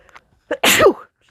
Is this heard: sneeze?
yes